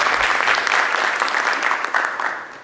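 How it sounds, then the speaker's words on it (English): Conference attendees at a university event in San Francisco give a warm round of applause, a thick burst of clapping that stays strong before tapering off slightly toward the end. "Please give them a big round of applause."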